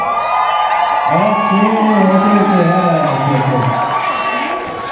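An audience in a hall at a university arts festival cheers and shouts, a loud sustained crowd roar with rising whoops, while a voice speaks over it briefly.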